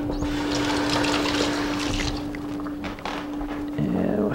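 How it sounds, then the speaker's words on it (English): Tap water runs steadily while a kitchen knife is rinsed, a close continuous splashing flow with a faint hum, under a voice speaking. "I just wash off this knife."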